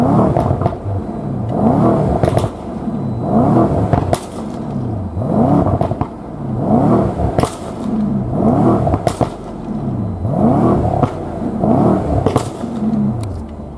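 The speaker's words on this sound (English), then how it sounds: "let's give it some revs real quick." A Mercedes-AMG S63 Cabriolet V8 engine revs repeatedly, about seven sharp roaring bursts that climb and fall in a steady rhythm, loud and close.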